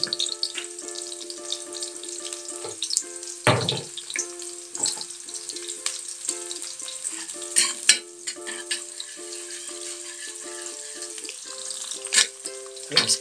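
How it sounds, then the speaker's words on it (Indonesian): Sliced shallots and garlic fry in hot oil in a wok, a steady close sizzle with occasional stirring scrapes and clinks, no talking. "Sekarang kita akan masukkan bawang merah dan bawang putih yang sudah diiris-iris tadi."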